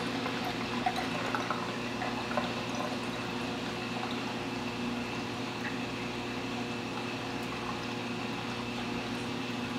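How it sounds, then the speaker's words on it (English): Bean Animal style aquarium overflow siphon drawing air bubbles down its pipe, a continuous gurgling, slurping water rush with steady hum, close and unbroken throughout. "You hear the bubbles getting sucked out of that thing back there."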